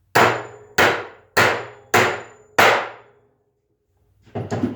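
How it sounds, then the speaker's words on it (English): Five loud, evenly spaced framing hammer blows strike a big nail with a metallic ring, then a pause before a softer rustle. "We'll drive a big nail with this one."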